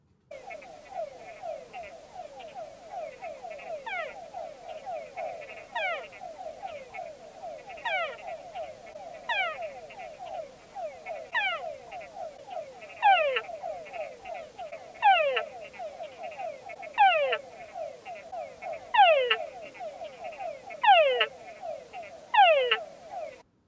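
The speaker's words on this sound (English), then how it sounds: "listen to the calls at each dip, and you can also see how inflated is the vocal sac of the frog" A recording of a frog calling, played back during a talk, with rapid repeated croaking trills in regular bouts and sharper chirps rising toward the end, fairly faint and steady, without talking.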